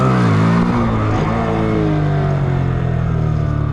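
Motorcycle engine revs loud and close during wheelies, the pitch climbing then settling into a steady high drone, with no talking.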